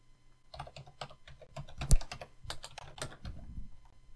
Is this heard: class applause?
no